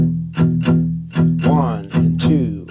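Electric guitar chugs a blues boogie swing rhythm on the low strings, with paired strums in a shuffling long-short pattern, close and loud, with no talking.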